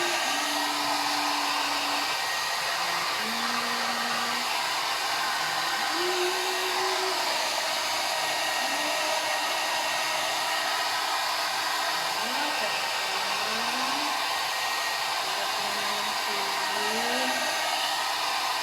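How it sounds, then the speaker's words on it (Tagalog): A hair dryer blows steadily and loudly throughout, drying Coco the dog after a bath, with a constant rushing whoosh and faint wavering tones. "Mag-blower kami ng coconut."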